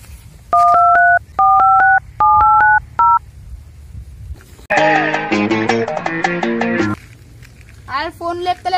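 A phone keypad beeps through a quick series of dialing tones in short bursts, followed by a louder ringing or music tone and then a voice.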